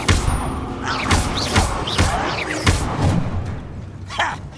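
Incendio fire spell cast repeatedly in Hogwarts Legacy, a series of punchy whooshing bursts and thuds arriving in quick rhythm, loud and close, with crackling flame tails between impacts.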